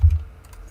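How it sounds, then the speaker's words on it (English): Brief burst of typing on a computer keyboard: a few soft, close clicks following a low thump, quiet and scattered over under a second. "we're both typing it in"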